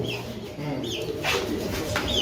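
Lotan pigeons coo in a breeding room on a large pigeon farm in Dhaka, soft throaty low calls repeating close by, with a faint voice in the background.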